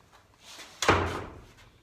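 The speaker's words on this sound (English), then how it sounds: "Door locks." A prehung split jamb door latching shut indoors, heard as one sharp, close thunk after a soft rustle, then fading quickly.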